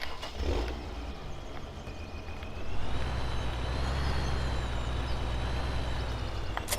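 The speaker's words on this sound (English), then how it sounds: "it's actually nice to try out all the different tractors because they've all got slightly different engine sounds, engine notes" A tractor engine in Farming Simulator 17 holds a steady, loud, low diesel rumble throughout, with a faint higher whine that rises and settles midway.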